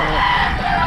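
Roosters tethered in numbers on a farm crow loudly and continuously, a dense, close chorus of overlapping calls filling the short moment.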